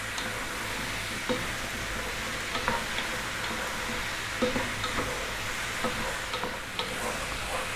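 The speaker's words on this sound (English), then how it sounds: "Stir every now and then." A spoon stirs lentil stew in a pot, scraping in scattered soft strokes over a steady, even sizzle of simmering vegetables, with no talking.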